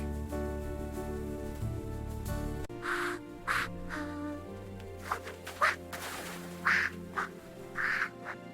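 Cartoonish duck quacks ring out in short bursts, several in a loose rhythm over a soft musical backing after a brief tune.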